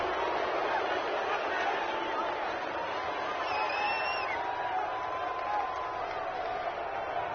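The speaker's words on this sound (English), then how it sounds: "this crowd does not like that call" A stadium crowd in an American football video game reacts to a penalty call with a steady, dense roar of murmuring and booing displeasure, broad and continuous throughout.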